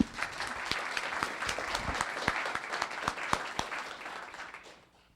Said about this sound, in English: one more round of applause for these volunteers